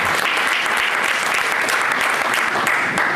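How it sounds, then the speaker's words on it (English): A crowd at a rally of the Philadelphia chapter of the New Black Panther Party claps loudly and steadily, a dense, close wash of applause that holds at full strength throughout. "Give yourself a round of applause"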